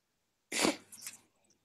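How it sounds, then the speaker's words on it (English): A person with a runny nose after eating very hot vindaloo curry gives one sharp, loud nasal sniff, then a softer trailing sniff, close up in a quiet room. "You'll have to excuse me sniffing."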